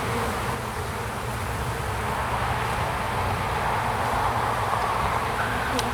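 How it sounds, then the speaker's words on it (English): Honey bees buzz in a thick, steady swarm over open hive frames during a spring inspection, a close continuous hum with no voices. "Bees on all frames"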